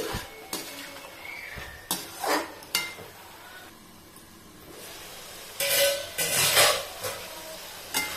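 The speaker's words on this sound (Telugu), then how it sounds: "ఇలా మధ్య మధ్యలో కలుపుకుంటూ ఉండాలి." A spoon stirs and scrapes bottle gourd curry in a pan over a low flame, in short, irregular bursts of metallic scraping separated by quieter stretches of soft background hiss.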